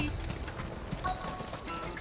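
Soft, rhythmic clip-clop footsteps of a chocobo mount in Final Fantasy XVI, fairly faint amid a light town ambience.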